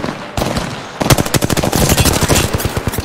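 Rapid bursts of automatic gunfire in a video game crackle close and loud, one short burst followed by a long, dense string of shots.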